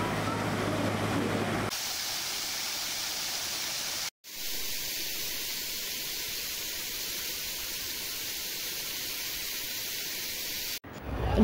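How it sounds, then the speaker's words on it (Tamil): Steady steam hiss with a broad rushing noise from a steam locomotive on the Nilgiri Mountain Railway in India, continuous and fairly loud, broken by brief cuts. "நீராவி எஞ்சினால் இயக்கப்படும் இந்த ரயில்"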